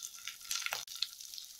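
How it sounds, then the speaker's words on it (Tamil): About ten finely chopped small onions (shallots) hit hot oil in a pan while making cauliflower podimas, giving a close, steady sizzling hiss with a brief louder crackle midway. "இப்போ இதில் ஒரு 10 சின்ன வெங்காயம் பொடியாக நறுக்கினது"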